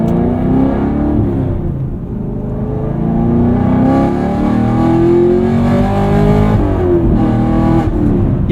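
A modified 2022 Camaro SS 1LE V8 roars loudly and close under acceleration, its pitch sweeping down, then climbing and holding through repeated rises, with a deep rumbling tone that stays dense and constant throughout.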